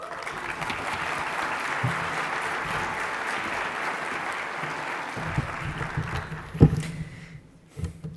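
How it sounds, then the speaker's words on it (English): A conference audience at an opening ceremony in Washington, D.C. claps steadily for several seconds. The applause thins toward the end and breaks into a few scattered louder claps. "A round of applause, please."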